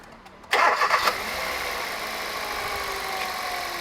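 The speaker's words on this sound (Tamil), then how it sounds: "திரும்ப வண்டியை ஸ்டார்ட் பண்ணலாம்." A motor vehicle engine, one with stalling at slow speed, low pickup and vibration, is started after a quiet moment: a short loud cranking catch, then the engine settles into a steady, even idle that continues close by.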